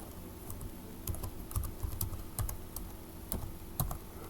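Rapid typing on a computer keyboard while a flyer is laid out in CorelDRAW, with irregular clusters of clicking keystrokes over a steady low hum and no speech.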